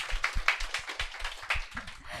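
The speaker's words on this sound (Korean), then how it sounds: "박수로 한번 맞이해 주실까요?" A small audience claps to welcome a teacher at a live information session, a brief patter of quick, light claps somewhat distant and fairly quiet.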